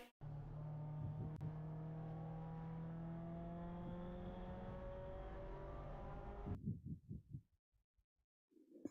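Onboard Mazda Miata race car during an endurance race: a steady, loud engine drone with rising harmonic pitch through a gear, then an abrupt cut to a rumbling, pulsing idle-like burble near the end.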